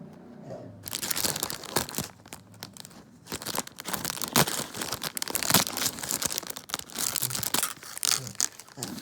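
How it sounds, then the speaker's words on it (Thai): A green paper stool-sample envelope is torn along its perforation, producing close, crisp ripping and crinkling bursts in irregular spurts over several seconds. "สีเขียวคือซองเก็บอุจจาระนะคะ อ่ะเดี๋ยวเราก็ ฉีกนะคะตามรอยปรุดนี้นะคะ"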